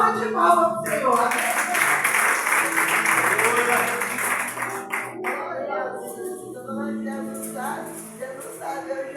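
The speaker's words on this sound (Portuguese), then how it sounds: "dá uma salva de palmas pro Senhor" Church congregation clapping for the Lord, a busy wash of many hands for the first few seconds that thins out as voices and music rise over it.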